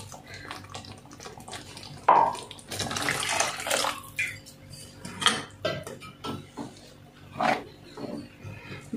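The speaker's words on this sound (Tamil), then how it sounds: "இதுக்கு தேவையான தண்ணி ஆட் பண்ணிக்கலாம்." Water is poured into a pan of simmering small-onion gravy with ground coconut, giving faint intermittent splashing and a few utensil clinks against the pan.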